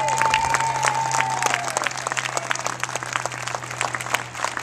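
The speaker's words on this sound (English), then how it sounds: "Big round of applause." Audience applause at a Tucson Tea Party rally, given to people standing in American flag shirts: a broad wash of clapping that stays strong throughout, with a steady low hum and a brief tone fading early on.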